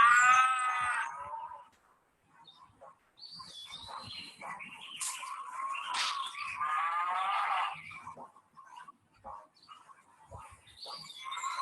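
Cows moo in long, low calls, one near the start and another later, with faint bird chirps scattered between them.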